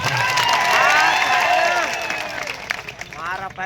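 A large crowd at an outdoor political rally claps and cheers loudly for a speaker. The applause swells and then fades, with voices shouting over it.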